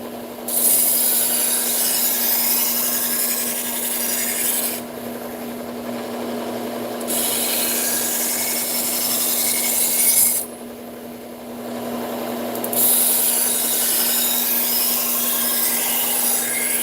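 An axe blade is sharpened all the way across with a file, producing three long, steady rasping strokes separated by brief pauses, close and clear over a faint constant hum.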